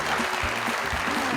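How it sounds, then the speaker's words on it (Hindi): Studio audience applauding a quiz winner on a comedy talk show, a short, steady burst of clapping at moderate volume. "हमारी आज की विनर के लिए बहुत सारी ताली"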